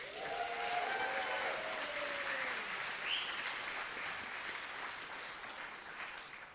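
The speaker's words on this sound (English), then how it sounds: "Let's give a round of applause for A Night with Nathan." Steady audience applause fills a film festival screening room at a world premiere, a dense wash of many hands clapping close and loud throughout, with a faint voice or two and a cheer rising briefly over it.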